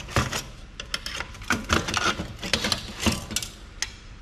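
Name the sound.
prying up plastic part of an old Compaq PC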